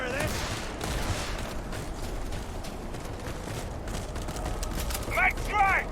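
Sustained gunfire crackles through a firefight in the game Starfield, dense shots rattling on steadily with a brief voice cutting in near the end.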